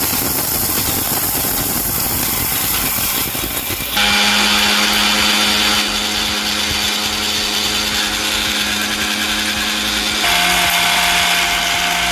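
A mixer grinder runs loud and close while grinding herbal baby bath powder, a continuous motor whine that jumps in pitch and intensity around the four-second mark and shifts again near the end.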